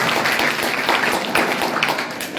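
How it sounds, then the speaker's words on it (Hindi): A crowd of school students gives sustained, loud applause indoors during a parliament-awareness school program in Kota, dense overlapping claps filling the whole stretch. "एक बार जोरदार तालियां बजाइए।"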